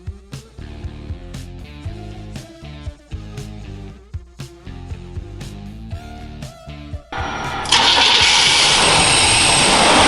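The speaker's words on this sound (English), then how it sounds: "Prior to cranking the engine," A 1972 Chevy C20 utility truck engine, newly fitted with FiTech EFI, cranks in a rapid rhythmic churn for several seconds, then catches and roars into a loud, steady idle.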